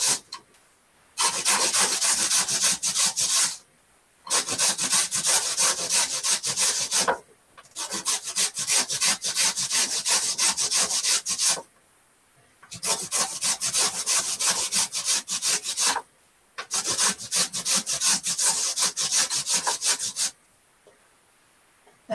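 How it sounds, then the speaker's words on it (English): Vegetables, including beetroot, are finely grated by hand for a zucchini lasagna, giving four long bursts of steady rasping strokes separated by short pauses, close and loud with no talk. "The fine grating makes some work, but it tastes then better than if you have it too coarse."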